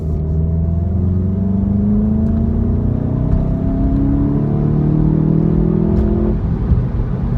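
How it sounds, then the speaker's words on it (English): A Mk7 Golf GTI accelerating hard in third gear, its engine note climbing steadily in pitch as a smooth, fairly muted drone heard from inside the car, with no talking. "then we shall see the not so sporty sounding GTI. Right, so third gear."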